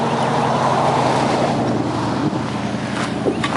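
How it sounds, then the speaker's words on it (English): A vehicle passes steadily close by with broad road rumble and wind, the noise holding loud for a few seconds before easing slightly. "here comes another car. Let them go by, save some of the noise."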